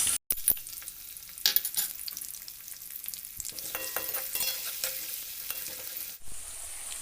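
Green chilies, ginger and garlic sizzle steadily in hot oil in a pan while a spoon stirs and scrapes through them, a close, continuous fry with no voices.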